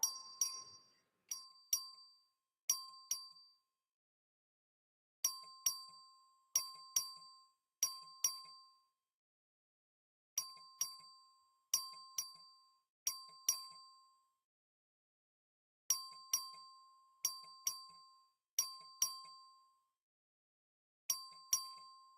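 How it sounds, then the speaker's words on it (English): A clerk rings the voting bell in the Texas House chamber: clear metallic dings in groups of three, repeated at a steady pace with short pauses between groups, each strike ringing out and fading, with no talk. "The clerk will ring the bell."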